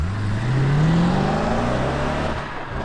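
A car engine revs up with a rising, loud tone, holds briefly, then settles as it tapers off near the end, heard up close without talk.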